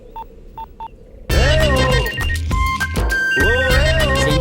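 A telephone number being dialed, three short touch-tone beeps alone, then loud music and voices come in over the top.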